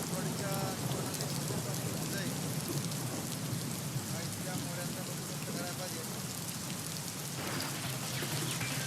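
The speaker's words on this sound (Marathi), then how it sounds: "पुण्यात सकाळपासून पावसाची संततधार सुरू आहे." Steady, dense rain falls continuously over a city during a prolonged downpour, with flooded streets nearby and a faint voice occasionally underneath.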